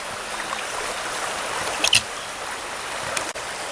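A shallow stream on the trail to Hannacroix Falls in a New York preserve trickles and burbles steadily close by, with a couple of brief splashes and knocks partway through.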